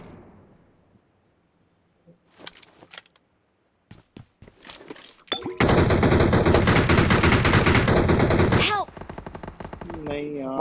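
Gunfire in the BGMI mobile battle royale game: scattered single shots and short bursts, then a sustained loud burst of automatic fire lasting a few seconds, followed by quieter game effects.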